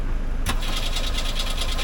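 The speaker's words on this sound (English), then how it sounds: "Give her a pump while you're cranking." A Lynx kit car's engine cranks against a steady background and then catches about halfway through, settling into a loud, close running rumble.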